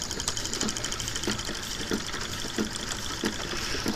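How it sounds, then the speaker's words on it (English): A small Stirling engine runs while driving a little generator. It makes a steady mechanical whir with soft, regular ticking knocks roughly every two-thirds of a second, close by and alone. "he would start the Stirling machine like this."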